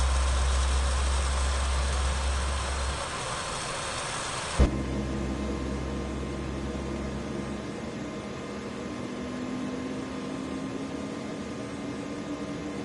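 Simulated engine of an MH-60 Black Hawk helicopter in a video game runs steadily, a loud broadband whine and hum that drops to a lower, quieter drone after a brief click, with a faint rising tone later.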